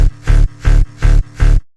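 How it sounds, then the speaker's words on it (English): Five swelling reverse bass synth notes in even rhythm for hard techno, each rising in volume then cutting off abruptly, the reversed tone pumping alone. "this is what the reverse bass sounds like"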